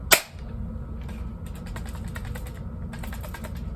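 A blue Nerf Knockout blaster is dry fired: one sharp snap up front, then a run of rapid plastic clicks and ratcheting creaks from the mechanism, close and unvoiced.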